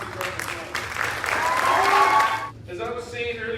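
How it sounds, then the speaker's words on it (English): Audience applause at a high school summer concert, sustained clapping that swells and then cuts off, followed by a voice speaking. "Let's give him a big round of"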